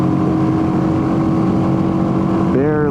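A Royal Enfield Himalayan motorcycle engine drones loudly at full throttle on a road, then its pitch climbs sharply as it accelerates past a car near the end.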